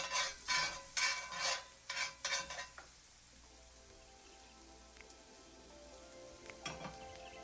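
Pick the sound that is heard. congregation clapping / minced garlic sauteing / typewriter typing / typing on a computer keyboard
minced garlic sauteing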